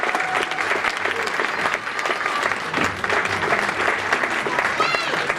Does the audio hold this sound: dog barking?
no